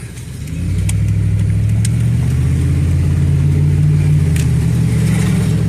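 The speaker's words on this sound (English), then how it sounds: "If it weren't for the exhaust leak, this would be a nice truck." A 2007 Ford F150 pickup with an exhaust leak drives along, its engine sound a steady, loud low rumble that swells in after a brief start and holds evenly throughout.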